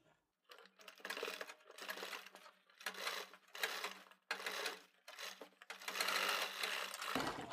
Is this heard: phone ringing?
no